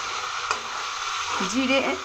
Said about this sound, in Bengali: আমি তেল গরম হয়ে গেছে, তেলের মধ্যে চিকেন দিয়েছি।